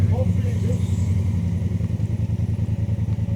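Motorcycle engine idling steadily after pulling over on a mountain road stop, a low continuous rumble with a pulsing beat, close and loud, while people talk over it.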